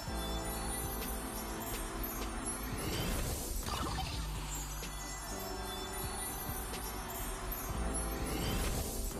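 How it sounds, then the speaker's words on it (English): A video game's TNC recall effect bursts out as a shimmering, glassy crash with whooshing sweeps and metallic sparkles over a dense, continuous tonal bed, and no speech. "TNC recall effect."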